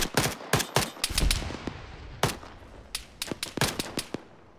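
Ammunition cooking off inside a destroyed BTR armored vehicle in a military video game: rapid, irregular cracks and pops in scattered bursts, close and sharp, with no talk.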